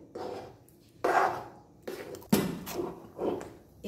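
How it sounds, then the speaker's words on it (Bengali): Palo of rice flour, milk and date-palm jaggery being stirred in a pan, with several scraping, knocking strokes at uneven intervals, close and moderately loud. "এরকম ভাবে নেড়েই চলতে হবে, নেড়েই চলছি আমি"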